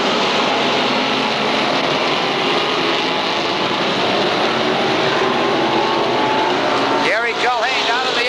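SK modified race cars roar at full throttle around Waterford Speedbowl, a dense continuous engine blare from the field, with a voice briefly cutting in near the end.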